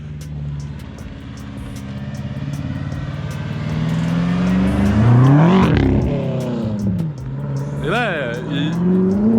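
A heavily modified car's engine revs and pulls hard, its pitch climbing and falling while excited French-speaking voices talk over it close by.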